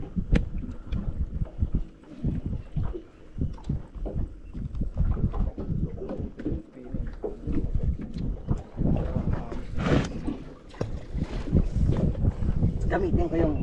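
A fishing boat's engine runs steadily at sea off Bimmah, Oman, a continuous low rumble mixed with wind buffeting and water noise throughout.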